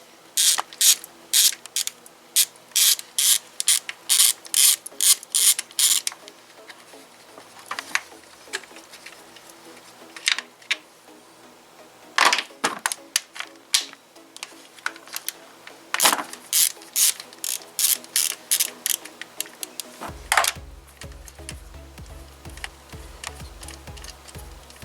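A ratchet wrench clicks rapidly as bolts come off the side timing cover of a Kia 1.8 engine, in repeated bursts of sharp ticking separated by brief pauses, and a low hum enters near the end.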